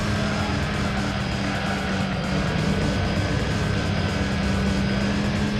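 Mazda Miata in Gran Turismo 3 droning steadily under throttle, a continuous engine hum holding one pitch at moderate loudness with no talk over it.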